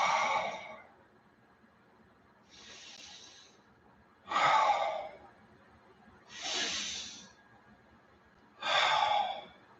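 Slow, deep human breaths during a guided meditation: five long airy inhales and exhales spaced a couple of seconds apart, close and clear against a quiet room, with no talking.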